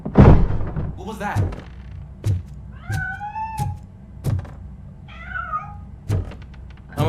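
A cat meows a couple of times in the RoboCop: Rogue City video game, rising wails over muffled thuds and room noise, heard at moderate distance.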